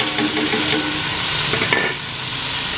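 Chopped tomatoes frying in a small amount of oil in a pan, a steady close sizzle with stirring scrapes throughout and no talk.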